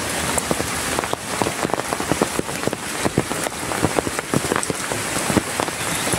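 Heavy rain falling in a village, a steady loud hiss of downpour with dense irregular patters and drips striking nearby surfaces throughout, no talking.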